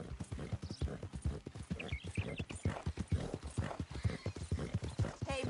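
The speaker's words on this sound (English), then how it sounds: "That's one nice-looking horse you got there." Horse hooves clip-clop steadily and briskly on hard ground in a PS4 video game, a close, continuous rhythmic patter lasting throughout, with faint higher sounds in the background.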